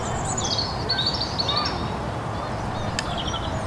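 A robin at a wildlife site near Longton Brick Croft gives a few faint, high plinking call notes over quiet outdoor background hiss, with one sharp click near the end.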